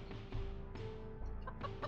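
A chicken clucking in a video game, a few short, repeated clucks mixed into steady game background sound, fairly faint.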